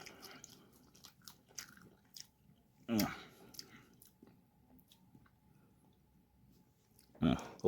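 Fries dipped in a purple Wendy's sauce are bitten and chewed up close, two distinct crunchy bites standing out against quiet stretches of soft mouth clicks.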